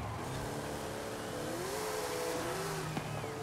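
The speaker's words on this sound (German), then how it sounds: "Ich höre einen BMW-Motor. Und dann V12 und Biturbo." A BMW V12 biturbo engine revs in the racing game Forza Horizon 5, a steady droning engine tone that climbs in pitch over a constant roar, with no voices.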